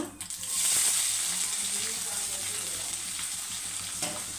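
Mustard seeds and chopped onion hit hot oil for a Tamil Nadu style fish curry, a loud close sizzle that rises quickly and holds steady with faint crackles and stirring.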